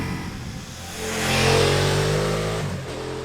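A 2021 Ducati Multistrada V4S motorcycle accelerating hard, its engine note swelling into a loud, rising roar, then easing off near the end.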